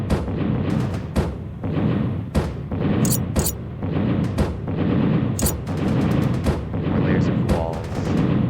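Turrets in the Fortified Space game fire in a dense, rapid stream of loud booming shots with sharp metallic pings mixed in, steady throughout, while a person talks over it.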